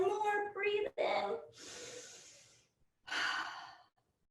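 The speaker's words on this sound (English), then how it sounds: "Let's take a deep breath in." Deep breaths in and out during a children's yoga session, two long airy inhalation-exhalation sounds close to the microphone, separated by short pauses, with a brief spoken voice at the start.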